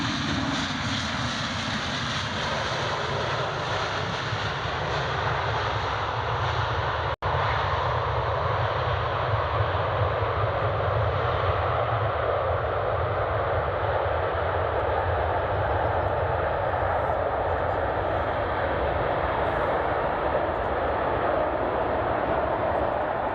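A BA CityFlyer jet arriving from London City roars continuously at Edinburgh Airport, a loud, sustained engine rumble that holds steady and slowly shifts in tone, with a brief click partway through.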